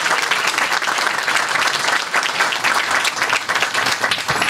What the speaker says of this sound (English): Give her another round of applause for our introduction.